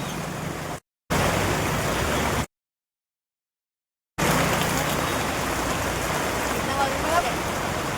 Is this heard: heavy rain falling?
yes